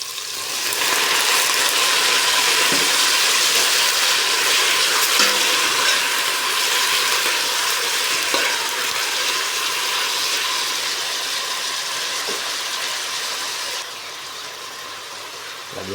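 Shrimp sautéing in a pan with mixed vegetables, a steady loud broadband sizzle with faint scraping and stirring clicks that runs throughout and eases slightly near the end.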